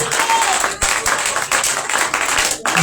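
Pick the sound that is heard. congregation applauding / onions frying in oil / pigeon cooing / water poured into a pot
congregation applauding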